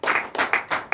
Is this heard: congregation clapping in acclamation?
yes